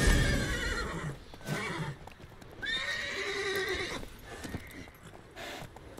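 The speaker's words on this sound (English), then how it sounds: "Does that mean that I can then change Roach to be a different kind of horse, maybe?" A horse in The Witcher 3: Wild Hunt video game gives loud, close neighs and whinnies over steady clip-clopping hooves, with no talk.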